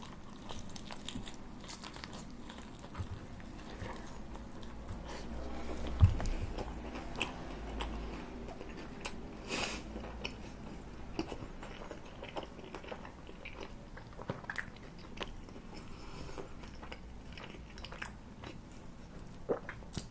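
Close, steady chewing and biting of chicken with beef bacon, onions and a creamy onion sauce, with moist crunches and smacking throughout and a slightly louder bite midway, no talk.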